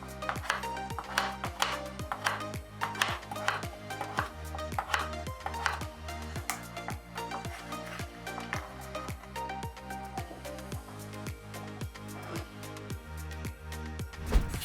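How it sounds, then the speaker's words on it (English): A knife chops pumpkin into cubes on a board, giving a steady run of sharp, close taps in a quick even rhythm over a faint musical background. "Then cut the pieces into cubes."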